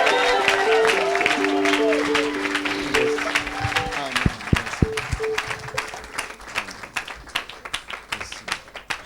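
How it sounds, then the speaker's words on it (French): A church congregation applauds an apostle, a sustained crowd clapping that grows sharper and more rhythmic over a sustained musical tone, with voices mixed in. "put your hands together for the Lord."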